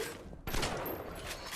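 Gunfire in the video game Bioshock, with a shotgun in play: a sudden loud burst starting partway through, followed by a dense, sustained roar of shots and noise that fills the rest of the moment.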